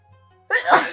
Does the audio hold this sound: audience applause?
no